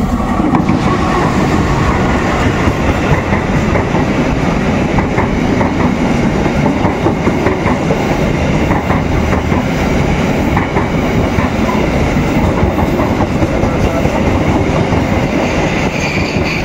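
Riding aboard the Baturraden Ekspress passenger train, business class, a loud continuous rumble with rhythmic clickety-clack of wheels over rail joints, heard from inside the carriage with no talk.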